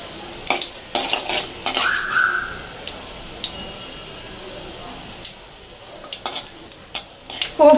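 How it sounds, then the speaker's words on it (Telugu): Potato pieces fry in hot oil over a seasoning of tempered spices for aloo fry, with a soft steady sizzle punctuated by repeated scraping strokes of a spoon stirring in the pan. "ఆలు ముక్కల్ని ఇందులో వేసి ఫ్రై చేసుకోవాలి"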